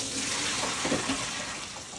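Salad is strained out of vinegar water in a kitchen, making a steady rush of draining water like a running tap with small splashes, continuous and fairly close, with no talking.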